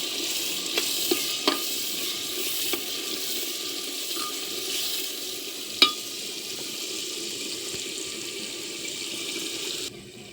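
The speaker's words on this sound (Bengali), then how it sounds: "পেঁয়াজটা ভাজা হয়ে গেলে লাল লাল করে।" Onions frying in a pan alongside ginger-garlic paste, for a chicken handi curry: a steady broadband sizzle throughout, with a few sharp clinks of utensils and a brief louder knock near the middle, no talking.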